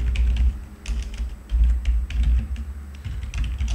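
Username and password being typed on a computer keyboard, a close run of irregular key clicks in quick bursts with a low hum underneath and no talking.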